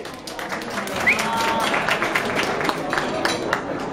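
An audience at a Fiat 500 gathering in Pordenone claps steadily for a contestant, with crowd murmur and talking mixed in throughout.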